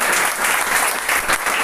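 A church congregation claps together in a dense, steady wash of applause that carries from start to end without letup; no voices stand out.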